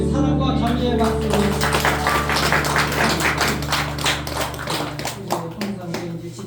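Church congregation at a Sunday worship service applauds steadily, a dense wash of many hands clapping over a sustained organ or keyboard chord, with voices faintly underneath.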